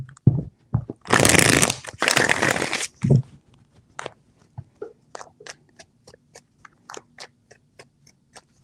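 Tarot cards shuffled in two loud riffling bursts, followed by a few soft taps and a string of faint, evenly spaced clicks as the deck is handled.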